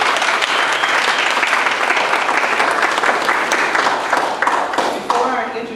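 Dense, steady applause from an audience at an evening Black History celebration event, with loud clapping filling the room throughout and tapering slightly near the end.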